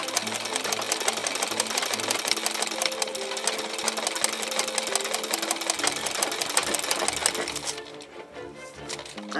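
A sewing machine stitches a napkin, a dense, rapid mechanical whirring and clatter running steadily and loud, easing off near the end.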